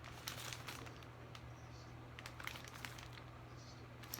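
Soft, intermittent crinkling of a plastic bag being handled close by, faint rustles and crackles in short bursts.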